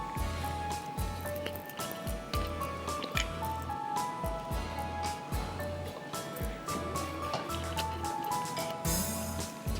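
Cooking oil pouring and splashing into a kadhai, a steady wet liquid sound with repeated soft squishy pulses, close and fairly loud, with no talk over it.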